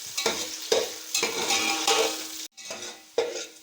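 Onions and cardamom frying toward golden brown, with repeated stirring strokes scraping through the pan over a bright, loud sizzle, one short pause before the stirring resumes.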